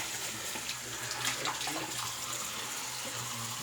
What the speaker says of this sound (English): Need some warm water going.